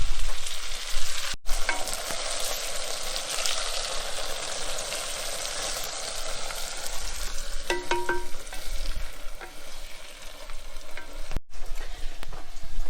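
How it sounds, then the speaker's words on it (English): Chopped rainbow chard fries in a pan with a loud, continuous close sizzle and occasional stirring scrapes, and no talking. "I have chopped up the rainbow chard, and I will just put it in this pan."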